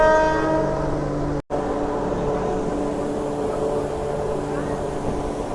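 A MEMU passenger train leaving Rajampet in the rain gives a long steady horn blast at the start, cut by a brief dropout, followed by continuous rail rumble and rain-soaked background noise.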